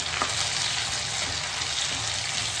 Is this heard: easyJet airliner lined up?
no